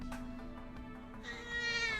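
An old cat gives a single drawn-out meow that rises in pitch toward the end, heard close and fairly clear over a low background hum.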